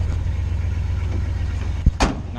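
A 1972 truck engine idles steadily up close, a low continuous rumble with a couple of brief knocks or clunks near the end.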